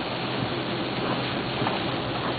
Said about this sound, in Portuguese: É a praia com chuva.